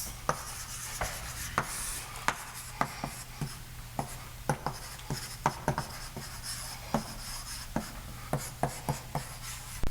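Chalk taps and scratches on a board during a mathematics lecture, sharp rhythmic strokes spread evenly across the stretch over a faint room hum, no speech.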